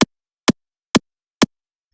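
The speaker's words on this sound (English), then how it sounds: "For the high punch, I took another default FL Studio kick sample," A default FL Studio kick sample pushed to max volume and cut short to form the high punch of a rawstyle kick: four short, hard, punchy hits evenly spaced about half a second apart, alone and dry.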